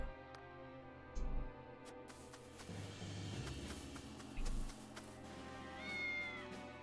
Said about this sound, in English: The cat found some money for us.